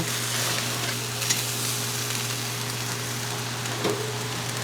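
Potatoes fry and are stirred in a hot pan, giving a steady, close sizzle with soft scraping throughout and no talking.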